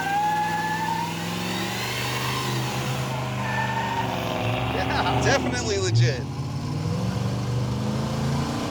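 The Raunchero, an old rusty car revived, drives along with its engine running loud and steady, pitch climbing and falling as it revs, while people talk over it inside the cabin.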